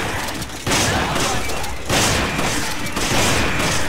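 Rapid gunfire bursts in the video game Resident Evil 5, three loud volleys of shots with booming impacts over game ambience, no talk heard.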